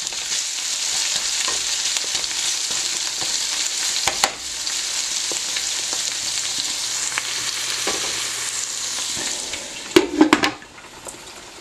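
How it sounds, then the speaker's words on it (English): Vegetables for a scramble fry in a pan with a steady loud sizzle, while occasional scrapes and a cluster of clattering knocks near the end mark them being stirred around. "And stir everything around."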